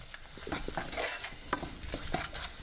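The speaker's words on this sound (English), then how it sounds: "so I'm just going to keep stirring this" Close, quiet stirring of sugar and melting butter in a pan, with irregular scraping taps and light utensil clinks over a faint sizzle and no voices.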